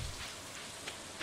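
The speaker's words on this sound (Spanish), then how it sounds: "está lloviendo" Steady rain falls in the farming video game Stardew Valley, an even wash of hissing patter with no other sounds.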